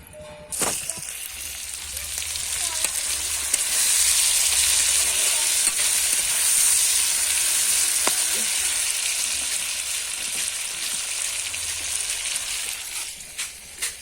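Fish-head dal frying with spices in a pan, giving a steady loud hissing sizzle that swells and holds, with occasional stirring clinks and scrapes; no voices.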